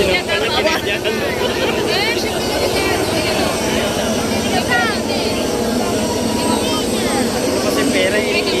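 A helicopter flying over a national peace rally makes a steady, loud mechanical drone throughout, with crowd voices and chatter mixed in.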